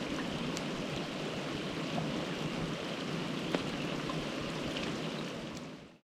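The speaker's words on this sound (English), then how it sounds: "the rain has set in" Heavy rain pours steadily over a lake, a dense, even hiss of drops hitting water and surfaces, moderately loud and close, with no voices, fading out at the end.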